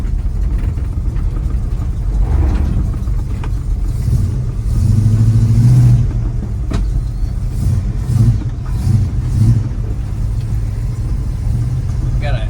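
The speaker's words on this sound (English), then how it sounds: "Heck of a nice sound to this truck." A restored 1973 Dodge W200 three-quarter-ton 4x4 pickup with a 360 V8 and automatic transmission rumbles at idle, with a few throttle blips swelling the low engine note over several seconds.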